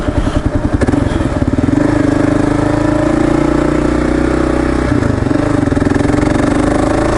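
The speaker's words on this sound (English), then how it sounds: "There's another trike." A motorcycle engine chugs with a pulsing beat, then holds a loud steady drone that rises slightly. It is heard up close and a trike is passing, with no talk.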